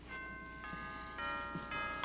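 A doorbell chimes at a house door in a TV drama, a tonal electronic ring that sounds three times at fairly even intervals, moderately quiet over a low room hum.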